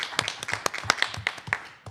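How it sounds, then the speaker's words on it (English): Applause from an audience at a school district board meeting, a brief spell of scattered, uneven hand claps that taper off over about two seconds, with no talking over it. "I am sorry that I interrupted the applause"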